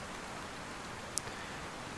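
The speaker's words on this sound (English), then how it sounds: "It's raining outside." Steady rain falling in the survival game DayZ, a constant even hiss of rainfall with one brief sharp tick partway through, heard alone without talk.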